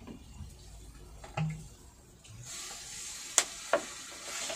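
Water poured into a pan of sizzling yogurt mixture on low heat, then stirred; soft sizzle with a brief splash and a couple of sharp clinks of a utensil against the pan.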